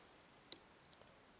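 Tiny metallic clicks of a pin setting while a Mul-T-Lock padlock is picked, one sharp click followed by two fainter ones, close and quiet.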